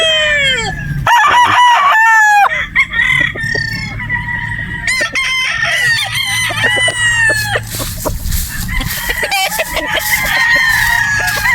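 Sweater Boston gamefowl roosters at a game farm in Batangas, crowing loudly and close, with repeated overlapping cock-a-doodle calls from several birds answering one another over low farmyard noise.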